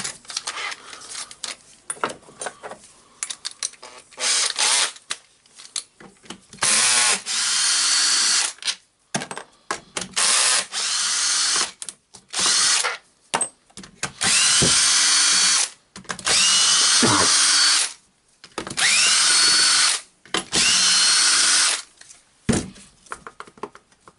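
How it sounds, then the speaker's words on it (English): A power screwdriver removes six screws from the housing of a Hilti TE905-AVR breaker. It whirs loud and close in repeated bursts of a few seconds each, with pauses and small clicks and handling noises between them. "Now I will unscrew these 6 screws."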